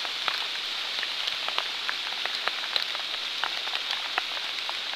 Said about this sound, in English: Cool rain in the woods, watching the water flow.